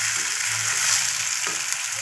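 Chicken meat frying in a pan, a dense constant sizzle up close with a brief scrape of stirring partway through and nothing else.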